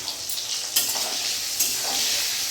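Eggplant pieces, salted and coated with turmeric, fry in a pan on a gas stove, giving a loud, steady, close sizzle with a few sharper clicks of stirring.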